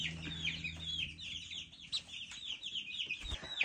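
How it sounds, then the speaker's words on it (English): Constant high-pitched chirping and peeping from many young chicks in a brooder, busy and close, with low clucking underneath. "as you can hear, they're very loud and noisy as well"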